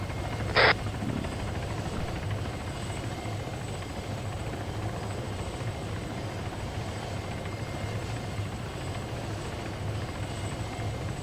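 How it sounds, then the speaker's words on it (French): A helicopter in the ArmA 3 military simulation game drones steadily and continuously nearby, with a brief sharp click near the start. "Restez pas en dessous de l'hélico."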